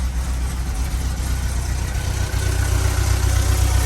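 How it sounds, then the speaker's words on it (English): A 1984 Volkswagen Westfalia camper van engine cold-starts, turning over and settling into a steady, low rumbling idle, loud and close, with a slight lift in level near the end. "I'm just going to do a start, and then I'll go back there and listen to the engine run."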